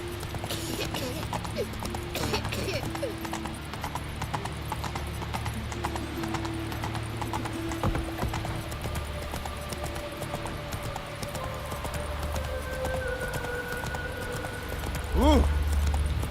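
A horse's hooves clip-clop steadily in a video game, an even trotting rhythm under music and game voices, with a whinny near the end.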